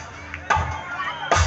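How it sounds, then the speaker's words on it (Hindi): An audience claps hands together in unison, a couple of sharp collective claps standing out over a murmuring crowd. "तालियां"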